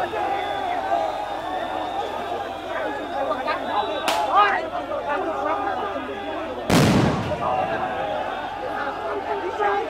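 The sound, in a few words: sound grenades exploding amid a protest march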